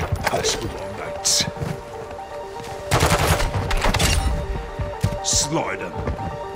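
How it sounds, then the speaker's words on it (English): Heavy gunfire in the video game Modern Warfare 2, with loud bursts and broadband blasts that come and go, mixed with radio-style voices and battle noise throughout. "I'm taking effective fire."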